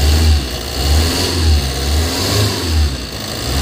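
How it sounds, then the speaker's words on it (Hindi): Revving engine of a Tata Super Ace pickup with a low-pickup fault, loud and close, with the pitch rising and falling in repeated surges over a steady low rumble, no voices. "मैं रेस करके दिखाता हूँ आपको।"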